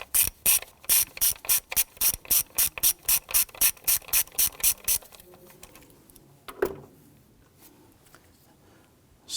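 A ratchet turning a T30 Torx bit to loosen a screw on a Jeep Patriot 2.4L, a fast run of about twenty sharp evenly spaced clicks, close and loud, then stopping into quiet with a single knock.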